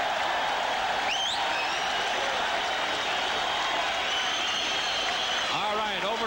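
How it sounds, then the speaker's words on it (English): Boxing arena crowd applauding champion Daniel Zaragoza after a bout with Paul Banke, a steady wash of clapping and crowd noise running throughout under commentary. "the crowd applauds Zaragoza"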